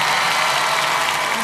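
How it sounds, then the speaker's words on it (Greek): A live concert crowd applauds a singer in a dense, steady wash of clapping that fills the short stretch without pause. "Το χειροκρότημά της να πάρει τα πάνω του"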